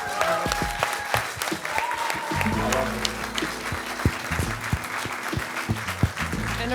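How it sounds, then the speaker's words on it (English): An audience at a live show applauds at the close, a sustained wash of clapping with scattered sharp claps and some murmuring voices underneath. "And a round of applause."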